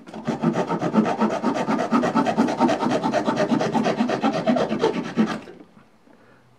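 A Leatherman Rebar multitool's saw blade cuts through wood in a quick, steady run of rasping push-and-pull strokes, close and clear, for about five seconds before stopping abruptly.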